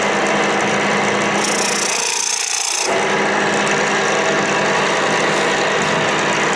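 A wood lathe turning a large piece of wood for a top, with a steady, loud, continuous scraping and rasping of the tool on the spinning wood, briefly brightening to a harsher hiss partway through, with no talk.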